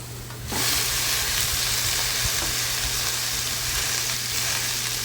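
Washed tandulja (amaranth) greens dropped into onions sautéing in a pan, a loud steady sizzle and frying crackle that swells at the start and continues with stirring, no voices.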